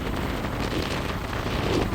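Strong wind buffets the microphone on the coast of Pungudutivu near Jaffna after a storm, a loud, steady roaring rush with no gaps, filling the whole moment.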